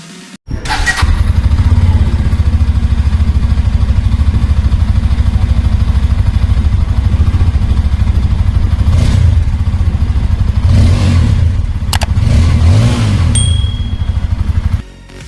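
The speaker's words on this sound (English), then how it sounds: "And now let's hear the exhaust note of the vehicle." Bajaj Pulsar F250 motorcycle exhaust, 2021 model, starting up and idling steadily with a loud, close deep rumble, swelling in a few short throttle blips near the middle and end before cutting off.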